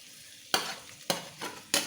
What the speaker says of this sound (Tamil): இதில் வெங்காயம் பச்சை மிளகாய் போடுறேன்.